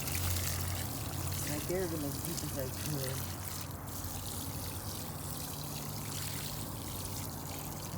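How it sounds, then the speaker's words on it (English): Water poured over freshly planted cantaloupe and melons in a spring garden, a continuous close trickle and splash running throughout while someone talks over it. "let's just water them really good"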